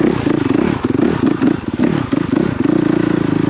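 Engine of a Honda CRF450RX dirt bike running loud and close, with a steady throbbing idle that rises slightly in a few throttle blips and has a mechanical clatter over it, heard alone.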